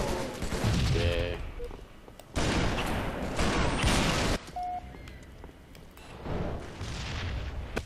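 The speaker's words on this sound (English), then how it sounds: "There's a bomb!" Explosions and heavy weapons fire from a Halo 3 multiplayer custom match, with loud booming bursts and blasts in separate clusters, one near 2.4 s and another around 3–4 s, over the fighting noise.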